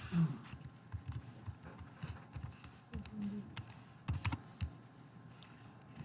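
Code is typed on a computer keyboard, a quick, uneven run of close key clicks and taps that stays fairly quiet throughout.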